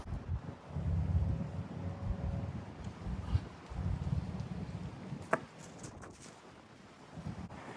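Wind gusting outdoors at a disc golf course, a low rumbling buffet across the microphone, moderately loud and uneven, with a brief knock partway through.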